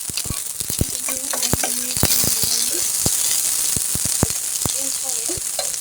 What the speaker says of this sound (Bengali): চিলি ফ্লেক্স দিয়ে 1 মিনিট নেড়ে নেব।